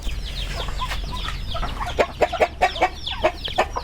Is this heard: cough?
no